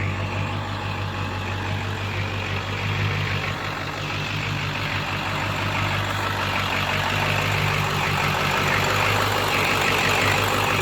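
A 12-valve Cummins diesel with an old-style injection pump and a 6-speed Allison transmission idles steadily in a 1978 Chevy crew cab truck, a continuous low rumble held close and even throughout.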